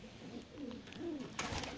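Pigeons coo softly nearby, a few low, rolling calls in a row, with faint rustling in the background.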